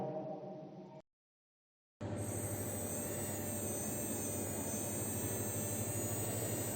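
An electric motor switched on by voice command starts after a brief silence, then runs as a steady, loud, even whir with a high whine.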